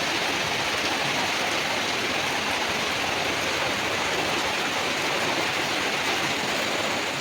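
Heavy rain pours steadily into a flooding courtyard, a dense, unbroken hiss of water that stays loud and even throughout with no voices.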